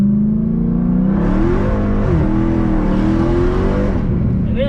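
A Dodge Charger Hellcat engine roars loudly from inside the car as it accelerates toward top speed, the pitch climbing steadily through a gear change with a brief dip before rising again.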